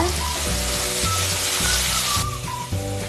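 Potatoes and masala fry in a nonstick pan for an aloo fry side dish, a steady bright sizzle broken by repeated scraping strokes as the mixture is stirred, close and with no talking.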